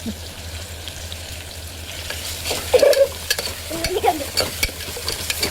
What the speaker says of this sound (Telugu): అల్లం వెల్లుల్లి పేస్ట్ వేస్తున్నాను.